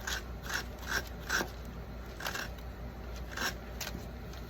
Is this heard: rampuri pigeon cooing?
no